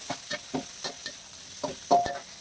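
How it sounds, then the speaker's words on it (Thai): Crispy pork, pork cracklings and tofu are stir-fried in a pan, giving a soft sizzle broken by about eight brisk scraping stirs of a utensil, close and fairly quiet. "ใส่ หมูกรอบ กากหมูแล้วก็ เต้าหู้ลงไปผัด"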